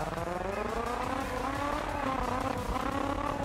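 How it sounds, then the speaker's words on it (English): Video game car engine running rough and gargling, a loud sustained growl with wavering harmonics and tire squeal, heard close and alone for a few seconds. "I don't like the way that car sounds, Tommy"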